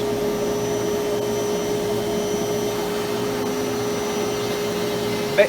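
A CNC router runs with a new dust collector, a steady, loud whine with a constant tonal hum that stays even throughout, with a small knock near the end.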